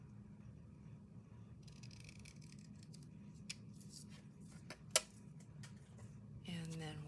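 Scissors cut material during a craft project: a few quiet, sharp snips and rustles sound against a faint, hushed indoor background.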